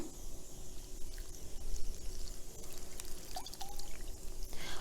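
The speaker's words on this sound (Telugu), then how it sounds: "పనీర్ వాటరు, అవి ఒక బౌల్, ఫుల్ బౌల్ తీసుకుంటున్నాను" Whey left over from making paneer is poured into a bowl for dough, giving a steady, close liquid pour that runs the whole time with small splashes and gurgles and no speech.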